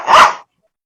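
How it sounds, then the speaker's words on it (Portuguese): A dog gives a single sharp, loud bark over an open microphone during a live stream, followed by silence. "Tem um cachorro, né, fazendo parte da nossa live."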